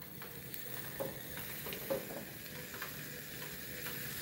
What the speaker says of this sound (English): Listen to that sizzle, my nizzle.